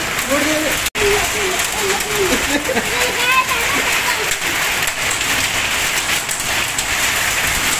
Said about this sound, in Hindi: हाँ ओले भी बड़े बड़े पड़ रहे हैं नहीं बारिश तो अभी भी तेज है बहुत